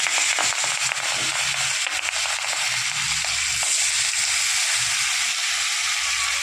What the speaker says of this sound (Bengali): মামনি এবার মাছগুলো হালকা লাল করে ভেজে নেবে